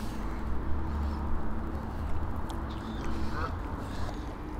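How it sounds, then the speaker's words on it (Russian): Geese honk and quack intermittently over steady outdoor background noise beside a flooded river in Burton upon Trent, England, a few calls at moderate distance. "Гуси-лебеди."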